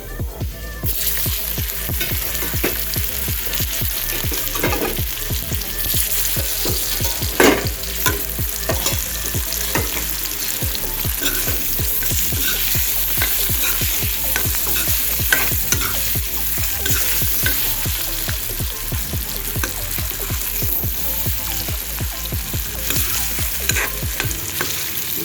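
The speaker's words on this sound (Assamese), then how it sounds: "সেইখিনি তেলতে মই এতিয়া আলুখিনি ফ্ৰাই কৰি ল'ম।" Potatoes fry in leftover oil with turmeric for an Assamese dish, a loud continuous sizzle broken by rapid, rhythmic scraping stir strokes close up.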